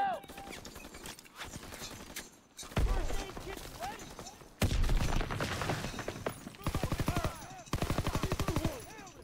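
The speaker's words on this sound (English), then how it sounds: "let's switch to the PPSH" A PPSh submachine gun in a World War II video game fires rapid, rattling bursts, several loud strings of shots separated by short pauses. Other game effects sound in between the bursts.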